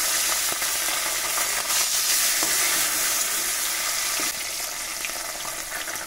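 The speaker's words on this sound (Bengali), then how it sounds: "মাছগুলো আমি এইভাবে করে সব মাছ কিন্তু ভেজে নেব।" Snakehead fish pieces fry in hot oil, giving a loud, continuous close-up sizzle with occasional pops and utensil taps, steady throughout and easing slightly toward the end.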